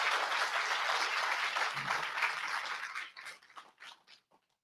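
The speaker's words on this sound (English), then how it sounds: "Yeah, that's something to clap for." A conference audience at a California summit claps, a dense burst of applause that holds steady, then thins into scattered individual claps and fades to near silence.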